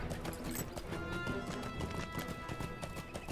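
Rapid hoofbeats of a speedy goat mount galloping across terrain in the Lord of the Rings Online game, a steady clip-clop rhythm running close and loud throughout with no talking.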